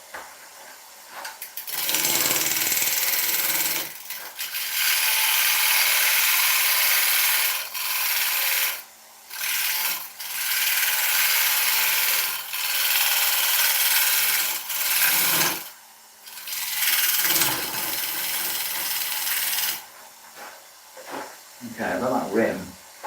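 Carbide turning tool taking light cuts on die-back ash wood spinning on a lathe, a loud hissing, rasping scrape in long bursts separated by short pauses, with someone speaking briefly near the end.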